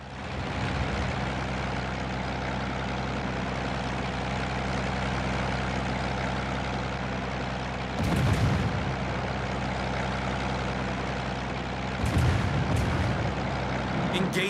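Gunfire in a video game breaks out as two short bursts over a steady, constant engine-like drone, fairly loud and close, with no talking.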